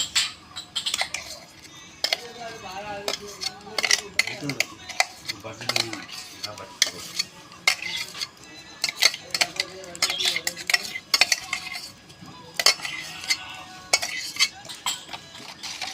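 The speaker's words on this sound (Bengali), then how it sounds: "এখন এই যে আমের যে পল্পটা পেস্ট করে রেখেছি সম্পূর্ণটাই ঢেলে দিব" Mango pulp stirred into cake batter made with flour: a utensil clinks and scrapes against the bowl in irregular taps and swishes, with soft wet mixing underneath throughout.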